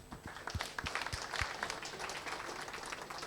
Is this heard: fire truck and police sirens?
no